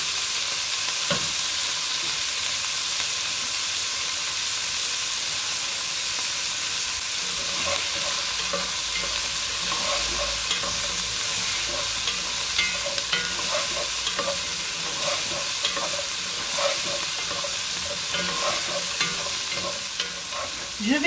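Vegetables sizzle and fry in a pan for boeuf bourguignon, stirred steadily with scraping clicks and bumps over a continuous close hiss, with no talking.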